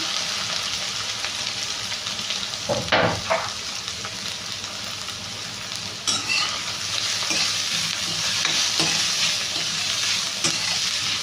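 Onions and green chillies frying in a pan, a steady close sizzle with scraping stirs and a few sharper clatters of the spatula.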